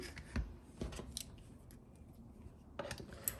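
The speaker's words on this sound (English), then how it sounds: "little scissors work too, huh?" Small scissors snip fabric dog ears off a quilt block, a few quick close clicks and cuts with quiet pauses between them.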